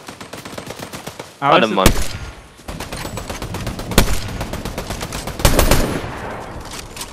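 Rapid bursts of gunfire in the video game Fortnite, sharp close shots scattered through a busy firefight, with a player briefly speaking over it.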